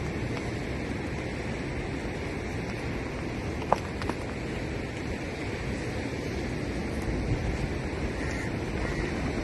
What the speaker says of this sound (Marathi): इथे तर जोरात लाटा मारतात समुद्राच्या